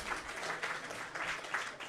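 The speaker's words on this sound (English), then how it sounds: "So huge applause to them as well." A crowd at a hackathon opening ceremony in Budapest applauds in a brief, fairly faint wash of clapping that swells and dips slightly across its two seconds, with no talk over it.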